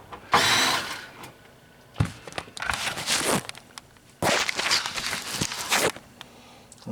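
Screws are worked out of a Palomar Skipper 300 by hand, heard as bursts of close scraping, rattling and grinding that come in three main spells with short quiet gaps between them.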